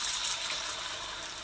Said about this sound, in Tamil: கீரை வேக வச்ச தண்ணி இருக்குது அதை இப்போ சேர்த்தணும்